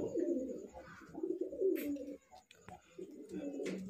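Highflyer Giribaz pigeons coo nearby in a soft, throaty rolling rhythm, several low bubbling calls repeated with short pauses between them, fairly quiet, with no talking.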